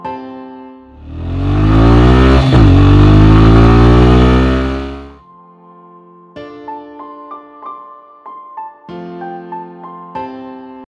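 A car engine surges up loudly and steadily for a few seconds, as if accelerating along a road, then drops away while bright tonal music plays on in short rhythmic bursts.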